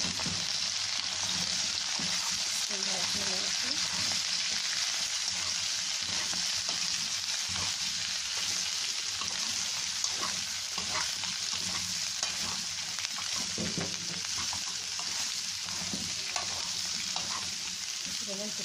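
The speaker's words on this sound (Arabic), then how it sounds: "انا مش هخلي الكوسة ايه تنزل المية بتاعتها، لا انا بشوحها بس" Zucchini sautéing lightly with salt and spices in a hot pan gives a steady close sizzle and frying crackle, stirred now and then, running continuously with no talk.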